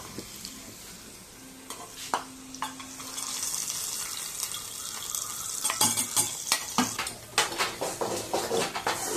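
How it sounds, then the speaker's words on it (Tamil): A spoon stirs curd rice mixed with green chili and ginger in a pot. Soft scraping and clinking strokes grow more rhythmic and pronounced toward the end, close and moderately quiet. "இதை இப்போ கிண்டி விட்டுக்கலாம்"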